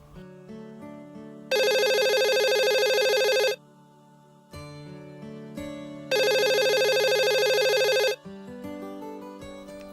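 A telephone rings in two long, loud electronic bursts separated by a pause, set against a steady musical background in a home drama scene; no one speaks.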